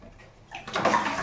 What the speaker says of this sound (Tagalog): Lagyan ko konting tubig.